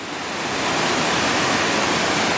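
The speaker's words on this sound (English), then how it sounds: "There's the main section of Trestle Falls just up there." Trestle Falls in Tasmania cascades as a loud, steady broadband rush of falling water that swells in the first moment and then holds constant, heard close with no voices.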